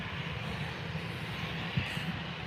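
An EasyJet airliner in EasyJet Holidays livery rumbles at Newcastle Airport on a gusty day. The engine roar is steady and moderately distant, with broadband noise and no speech.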